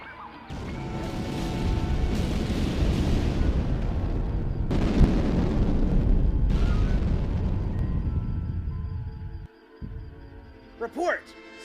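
Torpedo fire and explosions in a sci-fi space film: a loud, sustained rumbling barrage of blasts with sharp bursts, ending abruptly before a brief voice near the end.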